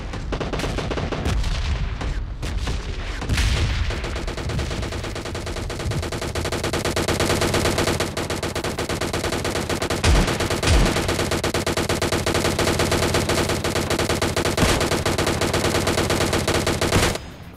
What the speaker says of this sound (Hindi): अब DP से तुम्हें पता है कितनी सारी गोली निकलती है